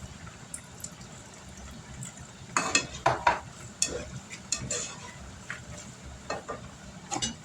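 Liquid poured into a hot pan of taco spaghetti sauce, with stirring clatter and a steady low sizzle, several sharp scraping and splashing bursts standing out midway and near the end, close and moderately loud.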